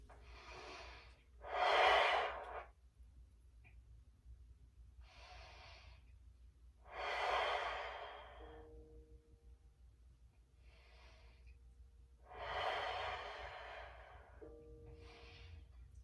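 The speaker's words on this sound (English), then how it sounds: "Continue deep breathing." Deep breathing during a stretching exercise class: slow, close, airy breaths with three strong exhales and softer inhales between them, spaced about five seconds apart, with no talking.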